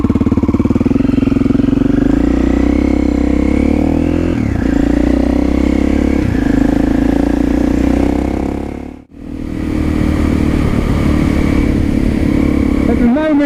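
A KTM 660 SMC motorcycle rides along a road, its single-cylinder engine droning loud and close with a steady mid-pitched hum, shifting as the rider changes speed, broken by a brief dip before it carries on.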